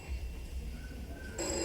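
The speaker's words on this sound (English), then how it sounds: "Ah, that's the phone ringing." A telephone bell rings under a quiet hum, a steady trill that breaks into a brighter ringing burst near the end.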